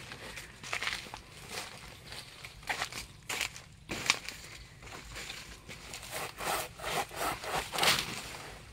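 A hand saw cuts through a banana tree trunk outdoors on a mixed small farm, with repeated rhythmic back-and-forth rasping strokes, close and steady, and no voices.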